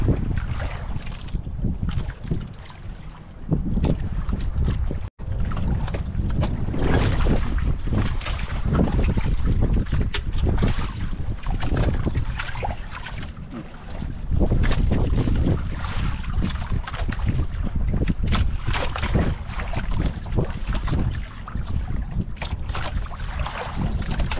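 Small wooden outrigger boat (bangka) moving across open water, with constant loud wind buffeting and rushing water filling the entire stretch, dipping briefly in places; no voices heard.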